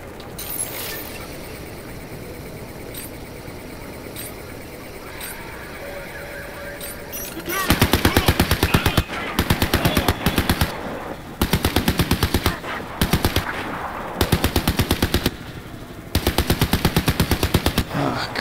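A hacked turret in Crysis 3 opens up with rapid machine-gun bursts, loud and close, in several stuttering volleys separated by short pauses, following a stretch of busier game ambience.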